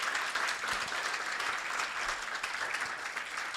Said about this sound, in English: Dr. Safwat needs another applaud for the good work.